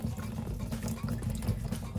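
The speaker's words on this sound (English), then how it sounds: "you can see the glugging happening in the back where the water is" Water pouring from the old spout of a slim-line pitcher, glugging with a choppy, uneven flow; a steady low burbling with irregular pulses throughout, fairly close and without talk.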